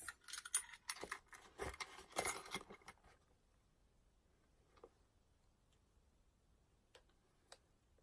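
Keys jingle and clink for about three seconds in a quiet room, with a few faint ticks afterward.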